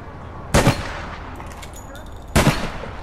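Two sharp, loud gunshots from a multiplayer shooter video game, about two seconds apart, crack over a quiet background hum.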